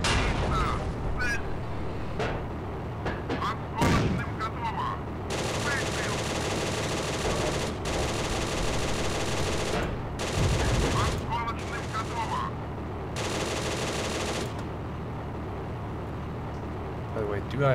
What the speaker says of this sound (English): Load high explosive and just punch shells into the forest.